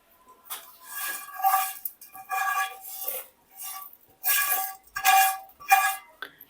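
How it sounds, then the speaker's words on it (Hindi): Spices, mint and green chillies being pounded with a mortar and pestle for chutney: quick metallic clinking strikes come in short bursts separated by brief pauses, close and moderately loud. "अब बारी है कुटाई की।"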